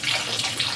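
Water pours in a steady, close, hissing splash into a pan of buffalo brains being readied for boiling, continuous for the whole brief moment.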